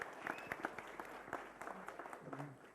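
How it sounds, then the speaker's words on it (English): Applause from the audience at a Premier Futsal League event in Chennai, a crowd clapping at moderate distance with faint voices mixed in, somewhat muffled and fading slightly. "can we have a huge round of applause, ladies and gentlemen?"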